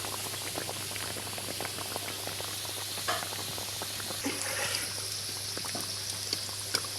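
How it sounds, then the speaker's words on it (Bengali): A mughlai paratha stuffed with green chilli, onion and egg fries in oil on medium heat, giving a steady soft bubbling and crackle with scattered small pops throughout, fairly quiet and close, with no talk. "চুলার আঁচ মিডিয়াম রেখে হচ্ছে কিন্তু ভাজতে হবে"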